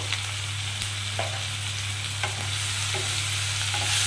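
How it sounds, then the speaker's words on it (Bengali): Oil sizzles steadily as ginger and garlic fry, with a few soft scraping knocks of stirring and a low hum beneath. "বাড়িয়ে বাড়িয়ে একটু ভাজা ভাজা করবো খুব বেশি লাল করে ভাজবো না"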